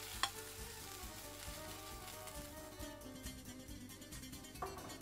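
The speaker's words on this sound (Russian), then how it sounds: "И отправляем перец в сковородку." Pieces of bell pepper sizzle and fry in a pan, a steady close crackle with a few small pops and stirring scrapes throughout, no voices.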